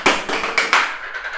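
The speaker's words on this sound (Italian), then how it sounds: "Se non cadeva, non era un mio video. Chiedo scusa per il rumore." A cosmetic cream jar drops and clatters on a hard surface, giving a few quick, close, bright knocks as it bounces and settles.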